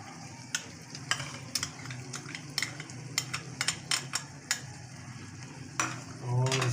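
Spoon stirring yogurt into a simmering potato and bell pepper curry in a pot, a soft sizzle underneath with irregular metallic scrapes and clinks against the pan, close and without speech.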